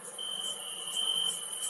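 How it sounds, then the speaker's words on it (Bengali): Crickets chirp at night near a deserted railway platform in a horror story, a continuous faint high trill with a steady buzzing texture and no other sound. "চারিদিকে অন্ধকার, ঝিঝি পোকা ডাকছে"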